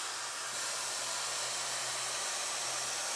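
A Neakasa Magic 1 handheld vacuum garment steamer runs steadily with a broad, even hiss of fan suction and steam, a low hum beneath it, continuous and fairly close with no talk.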